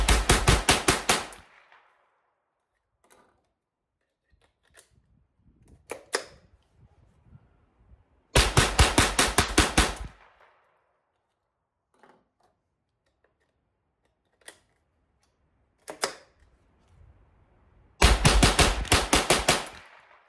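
Henry .22LR rifle in a reliability test firing three rapid strings of sharp, loud gunshots, each burst lasting a second or two, with scattered clicks and handling noises of magazines and action in the quiet gaps between.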